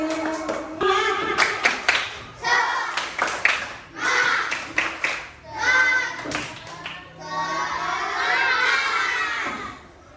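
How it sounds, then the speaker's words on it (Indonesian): Group of trainees in an Indonesian coding and artificial intelligence training session claps and cheers for a presenting group, bursts of clapping with shouts and excited voices in a lively room. "Berikan tepuk tangan untuk kelompok algoritma."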